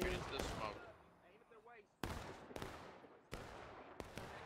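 Rifle fire in the American Civil War game War of Rights, several sharp, loud cracks spaced a second or so apart, each trailing off in a reverberant rumble, with voices talking over the opening.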